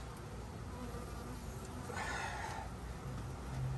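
Honeybees buzz steadily around opened hive frames during a formic acid mite treatment, a soft, continuous drone that swells slightly partway through.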